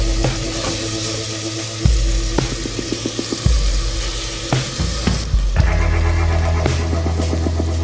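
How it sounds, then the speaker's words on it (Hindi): Masala sizzles steadily in a hot pan as it is fried for Pakistani-style chole, with periodic scraping and stirring clicks against the pan over a continuous frying hiss. "अब हम तकरीबन 3-4 मिनट के लिए इनको भूनेंगे"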